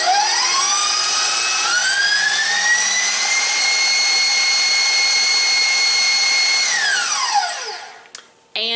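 An electric stand mixer whines loudly and evenly as it whips thick Swiss meringue, its motor pitch rising as it spins up, holding steady, then winding down to a stop with a faint clink at the end.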